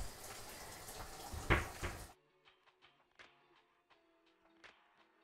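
Lukewarm water runs and splashes into a bowl of flour for dough, a steady pour of about two seconds that stops abruptly, followed by faint scattered drips and light kitchen clinks.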